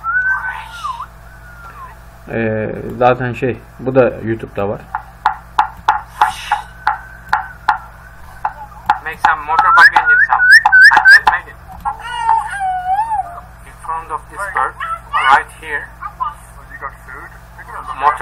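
A bird in Cambodia imitating a motorcycle engine starting: a run of rough, buzzing, sputtering bursts early on, then a stretch of whistled and warbling calls, all close and loud, with someone talking over much of it.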